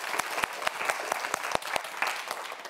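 Studio audience at a science quiz show claps for nervous student contestants, a short burst of fairly sparse, crisp handclaps at moderate volume.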